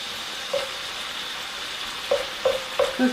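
Sausage cooks in a pan with a soft, steady sizzle, joined by a few short clinks and scrapes of a utensil toward the end; no one speaks.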